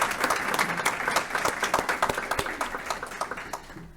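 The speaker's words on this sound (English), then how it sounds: "let's have a big round of applause for our planning committee" An audience at a school board meeting applauds the planning committee with a burst of dense clapping that thins toward the end into a few scattered, distinct hand claps.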